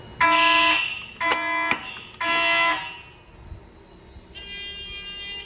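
A loud Simplex electronic fire alarm sounds in three sharp bursts during a test, then a quieter, more distant alarm tone follows after a pause.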